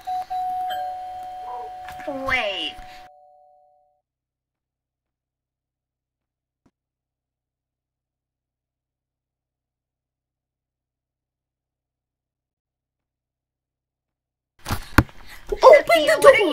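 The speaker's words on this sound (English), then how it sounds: "I'm gonna spam the doorbell" Video-game doorbell pressed repeatedly outside a house in a Roblox-style life roleplay, a brief burst of electronic chimes near the start alongside talk, then long silence before voices return.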